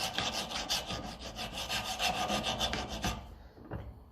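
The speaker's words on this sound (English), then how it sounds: "Just run around it with the file." A metal file rasps rust off a pin from a 1954 Ferguson TEF 20 diesel tractor, with steady rhythmic back-and-forth strokes, close and clear, that stop abruptly near the end.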